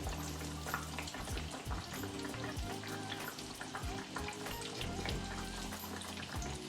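Catfish fries in a pan of hot oil with a steady, dense crackle and sizzle, close up, broken only by soft clinks, with no talking.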